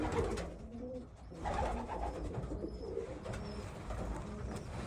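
Soft, low cooing from a young racing pigeon hen held in the hand repeats close by, with rustling and handling noise underneath.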